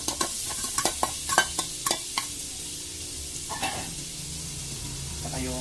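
Garlic fried in margarine in a pan gives a run of sharp spatula scrapes and stirring clatter for about two seconds over a soft sizzle, after which the steady hiss carries on quietly with a few more stirs.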